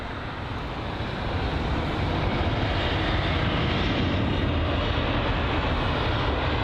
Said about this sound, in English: Here's the BA 777-200 from Bermuda. This is it arriving from its journey